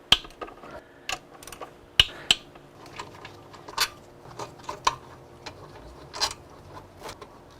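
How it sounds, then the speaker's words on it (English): A ratchet cracks loose the intake plenum bolts on a Honda Accord 2.4L engine: scattered close metallic clicks and clanks at an irregular pace, fairly quiet, with no talk. "I'm just gonna kind of crack them all loose, not pull them all the way out, just so that I have even loosening"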